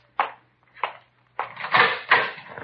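A door in a warm room of a 1952 radio crime drama is opened. Two sharp clicks are followed by a longer, louder rattling creak, close and clear with no talk over it.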